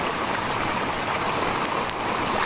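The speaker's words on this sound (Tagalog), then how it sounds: "So umapaw talaga yung tubig." Floodwater left by Typhoon Kristine rushes in a steady, close, broadband wash, like a strong stream pouring over a flooded street, continuous and unbroken with no voices.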